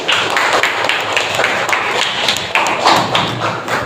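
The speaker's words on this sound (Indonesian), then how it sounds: "berikan tepuk tangan untuk kelompok 1" A classroom of students claps for discussion group 1, producing loud, close, rapid hand claps in a steady ragged rhythm with a few sharper thuds, and no talking.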